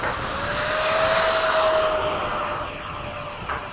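A steady aircraft engine roar with a high whine that slowly shifts pitch, holding loud and near throughout as the plane climbs in a high-performance takeoff with gear and flaps retracting.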